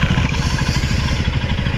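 Several motorcycles running in the cold on a high mountain campsite in Ladakh, engines chugging with a steady low pulsing idle, close and loud, continuous throughout.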